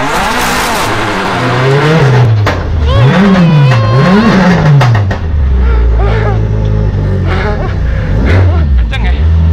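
A drift car accelerates hard with loud rising and falling engine revs and tire noise during donut runs, the roar continuous and close throughout while passengers talk and exclaim over it.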